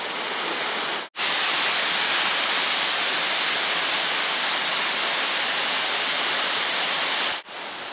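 Tall waterfalls on Tobago pour down in a loud, steady wash of broadband rushing water, unbroken for several seconds apart from two brief dropouts.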